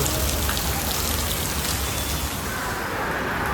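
Heavy downpour in Vellore, a loud, unbroken wash of rain hissing and pattering on surfaces nearby.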